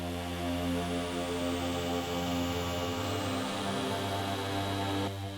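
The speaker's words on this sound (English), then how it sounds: "And we have this very wide pad sound here." A very wide stereo synth pad holds a steady sustained chord with a slow filter sweep across the top, even in level for about five seconds before it stops abruptly, with no voices.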